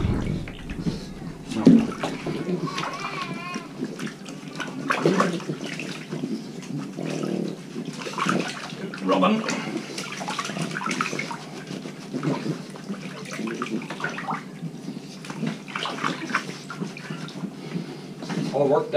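A pug being bathed with water and shampoo, with steady splashing and running water throughout as a person talks over it.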